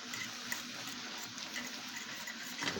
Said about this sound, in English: It's hot steam.